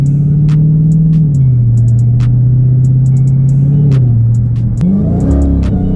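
A 2015 Dodge Challenger Hellcat engine pulls on light throttle, a loud, steady V8 drone whose pitch dips and then rises slightly, with faint ticks and bumps over the top.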